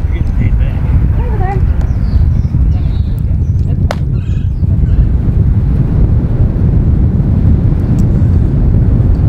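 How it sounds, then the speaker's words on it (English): Strong wind buffets a microphone on a disc golf course during a women's tournament round, a heavy continuous low roar with brief bird calls and a faint voice. "You can really hear the wind blowing now."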